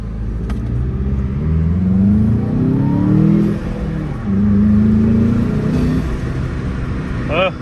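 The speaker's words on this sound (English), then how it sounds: "Here, just to hear that intake sound." A 2021 Jetta GLI fitted with an APR open intake revs in a couple of long, rising surges with a deep, throaty induction roar, loud and close, dropping back to idle between pulls.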